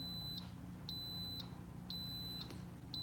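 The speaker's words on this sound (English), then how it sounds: "Hear it beeping?" Repeated high electronic beeps, each about half a second long, sounding at a steady interval over a low background hum.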